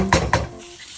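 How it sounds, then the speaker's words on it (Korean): A spatula stirring tomato paste and ketchup in a pan for hamburg steak sauce, making two quick scraping clanks against the metal close up, followed by a faint fading sizzle. "토마토 페이스트 한 스푼, 케찹한 스푼을 넣고 주걱으로 볶아준다."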